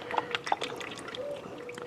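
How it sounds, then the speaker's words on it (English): 5W20 engine oil poured slowly through a funnel, a faint close glug and trickle with a few small bubbling pops over a quiet background. "So I'm just going to pour it on in."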